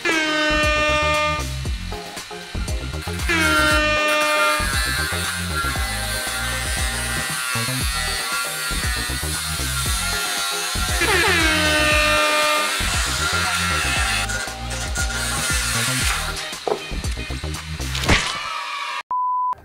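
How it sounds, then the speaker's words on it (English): An angle grinder cutting into a small MiniMic microphone makes a loud, pulsing mechanical whine with bursts of gritty grinding that keep shifting in pitch, then stops sharply at the end. "you voted to destroy the MiniMic with the angle grinder"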